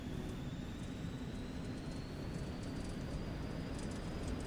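Aircraft engine in the flight simulator X-Plane throttling up, a dense continuous roar with a faint high whine that edges upward, steady and loud from start to end, with no voices.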